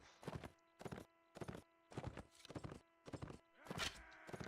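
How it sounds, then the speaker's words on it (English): Rhythmic clip-clop of a horse's galloping hooves in Mount and Blade: Warband, in steady repeated bursts, loud and close, with a horse whinny near the end. "Going like full peg sprinting on a horse."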